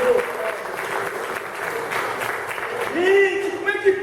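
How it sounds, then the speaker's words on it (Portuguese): A church congregation applauds steadily, with a warm crowd clapping that swells slightly near the end while a voice speaks over it. "Vamos dar uma salva de palmas para esse Cristo"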